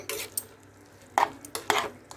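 Cooked urad dal being stirred in a pot, a few soft scraping clinks of a spoon against the metal, scattered and close, with quiet gaps between.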